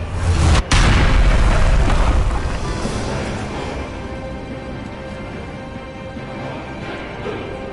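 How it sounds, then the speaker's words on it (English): A bomb drops from the sky and explodes in Final Fantasy XV, a heavy booming blast at the start that fades into a long, rumbling roar. "Bomb, it comes out of the sky."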